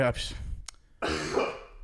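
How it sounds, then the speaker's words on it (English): A loud, harsh cough or throat-clear bursts out close to the mic, with a second rougher burst after a brief pause. "That was a loud cough."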